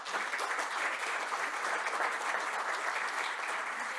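Sustained, dense applause from a conference audience welcoming a panel guest at an infrastructure forum, an even wash of many clapping hands, with no speech on top.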